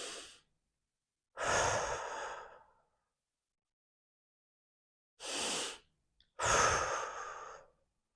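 Deep breaths during a flexibility and mobility stretching session, heard as four separate breathy inhales and exhales close to the mic, with quiet pauses between them and no talking.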